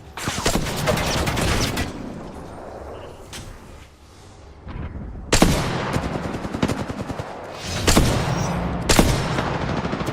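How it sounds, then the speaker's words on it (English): Gunfire in the video game Apex Legends comes in rapid automatic bursts, with sharp cracks in clusters, a short lull, then renewed volleys of shots. "Okay, they're shooting at me."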